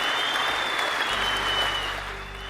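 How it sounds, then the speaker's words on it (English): An audience gives a big round of applause for Shelby at a motivational talk: dense, steady clapping that fills the whole stretch and eases off slightly at the end, with no talking over it. "A huge round of applause for Shelby,"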